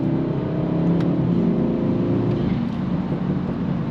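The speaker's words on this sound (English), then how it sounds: "I have the 340i exhaust, which sounds good, and it definitely burbles more with the exhaust and this tune." BMW 330i with a 340i exhaust and tune burbling while driving, a loud steady exhaust drone with rumbling, crackly texture that eases slightly toward the end.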